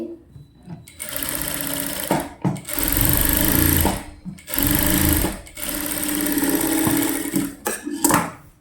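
Sewing machine stitching slowly around the neckline of a full-circle gown made from an old saree, running in several stop-and-start bursts of loud rapid whirring with brief pauses between.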